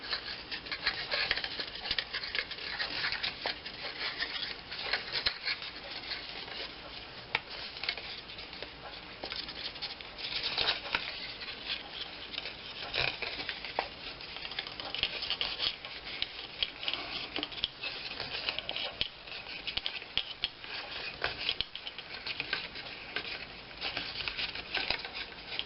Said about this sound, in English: So now I'm folding the other score lines.